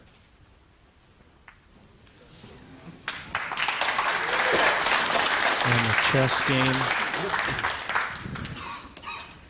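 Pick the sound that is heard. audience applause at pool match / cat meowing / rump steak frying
audience applause at pool match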